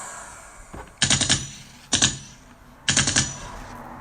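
Three bursts of rapid automatic gunfire in a war-themed skit, each a tight rattling volley of several shots spaced about a second apart, loud and close with short tails and no talk.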